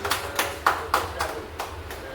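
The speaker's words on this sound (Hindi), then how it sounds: "मेरा पहला रिकॉर्ड है जोरदार ताली" Audience clapping at a business plan event, a handful of spaced, fairly loud claps forming a loose rhythm under a background hum, with voices talking.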